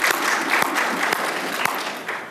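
Audience members at a legal education presentation clap their hands together, a loud close crowd applause with some sharper individual claps standing out, steady for a couple of seconds.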